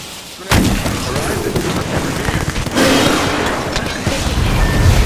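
Heavy gunfire and booming impacts in a ranked match of Apex Legends, loud and close, with dense bursts running continuously through the moment.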